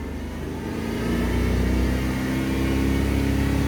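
A car engine revved and held steady at around 3000 rpm during dynamic diagnostics in a workshop, a continuous loud mid-pitched drone that rises slightly after the first second and then stays constant.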